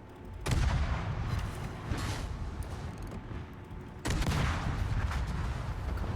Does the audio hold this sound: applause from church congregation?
no